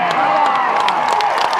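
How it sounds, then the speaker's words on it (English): A crowd at the Wimbledon tennis championships cheers and chatters in a dense, steady wash of voices and scattered claps, heard from a short distance outdoors. "Everybody cheering."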